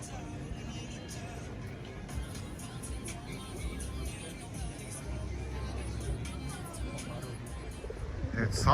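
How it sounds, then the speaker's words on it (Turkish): Pigeons coo along the riverbank in Ljubljana, the soft calls mixed into a steady outdoor hubbub of distant crowd chatter and city noise. "Nehri kıyısındaki güvercinler"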